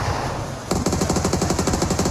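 A rapid burst of automatic gunfire in the PUBG Mobile battle royale game cuts in and stays loud, a fast even rattle of shots over steady game background noise.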